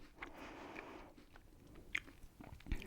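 Teeth biting into the sugary outer coating of a jelly sweet, with a soft close-up crunch and chewing, then a few small sharp crackles, quiet and intimate.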